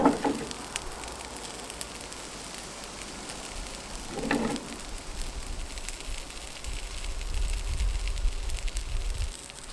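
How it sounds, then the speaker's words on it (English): A pork chop topped with nduja butter sizzles and crackles on a Weber Summit charcoal grill, a faint continuous hiss with a couple of brief louder flare-ups. "That will melt and sear that nduja into that beautiful, beautiful pork"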